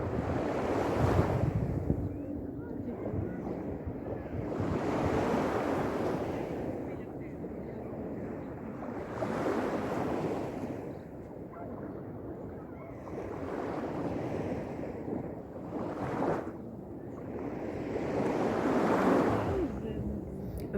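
Waves wash onto the Black Sea shore in Odesa, swelling and receding in broad surges every few seconds under steady wind buffeting the microphone.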